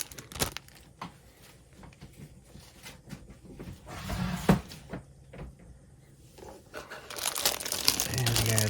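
A plastic parts bag from an Academy F/A-18C Marauder model kit crinkles and rustles up close in scattered bursts, with a voice speaking intermittently.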